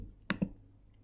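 Two quick, close computer mouse clicks in succession while software is being operated, sharp and clear against a quiet room.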